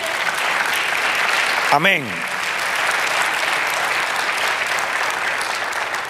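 A congregation at a Spanish-language church sermon applauds steadily and evenly throughout, with a brief voice rising in the middle over the clapping.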